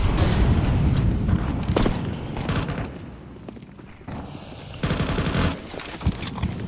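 Rapid rifle gunfire in Counter-Strike 2, loud and close, with repeated bursts of automatic shots separated by brief lulls and mechanical clicks.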